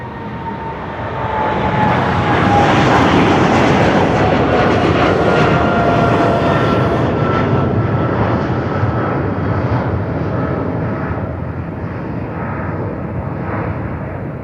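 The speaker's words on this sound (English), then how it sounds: "It is a 777 freighter." A Boeing 777 freighter takes off from Sydney Airport at night, its engines building to a loud, broad jet roar that holds steady and then slowly fades as the aircraft climbs away.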